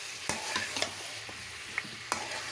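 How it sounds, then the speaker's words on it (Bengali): Beef being stirred and fried in oil in a pan over a clay stove: a soft continuous sizzle with scattered sharp scrapes and knocks of the spoon against the pan, fairly close and quiet. "নাড়াচাড়া করছি যাতে আরও একটু তেলটা বেরিয়ে আসে"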